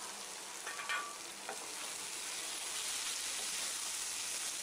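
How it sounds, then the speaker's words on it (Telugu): Andhra-style chicken fry sizzles steadily in an open pan while a spoon stirs it, with a few light scrapes and clinks early over a constant close crackling hiss. "ఇది చికెన్ ఫ్రై కాబట్టి మూత పెట్టకూడదు, కలుపుతూనే ఉండాలి, లేకపోతే మాడిపోతుంది."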